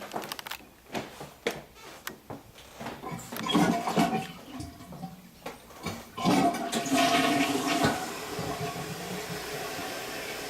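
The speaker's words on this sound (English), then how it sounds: "It sounded like a toilet flush, didn't it?" A toilet at Tinker Swiss Cottage flushes with a loud rushing gurgle of water that surges, swirls and then settles into a steadier refill hiss, preceded by a few sharp clunks.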